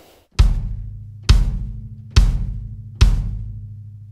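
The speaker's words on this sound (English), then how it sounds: "the bass drum here is a very low sounding instrument" A low bass drum struck four times with a foot pedal, each deep boomy thump close and loud, ringing out and decaying before the next at roughly even intervals.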